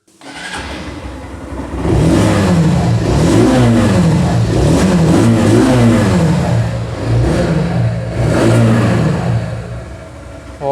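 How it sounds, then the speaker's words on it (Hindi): A 160cc motorcycle's exhaust revving close by, rising in several repeated throttle blips with a rough mid-range drone and steady idle between pulls; no talking. "अब मैं आप लोगों को इसकी जो एग्जॉस्ट साउंड है वो भी हल्के से सुना देता हूँ।"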